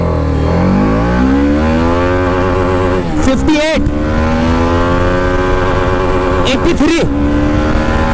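A BMW G310RR motorcycle engine revs hard and rises in pitch, drops briefly at each gear change and climbs again, loud and close throughout, with someone speaking briefly over it.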